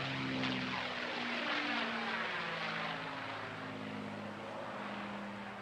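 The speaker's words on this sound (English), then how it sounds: "Really absorbing, just seeing this aircraft eating up the Bournemouth Air Festival airspace." Display aircraft at the Bournemouth Air Festival passes overhead, a loud sustained engine roar with sweeping Doppler tones that peaks early and slowly fades as it moves away.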